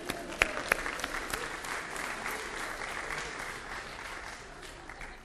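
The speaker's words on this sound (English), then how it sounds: "Give them a round of applause." A few sharp individual claps open into a steady round of audience applause at a live performance event, fairly faint and even throughout.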